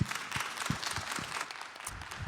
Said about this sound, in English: a round of applause for Alex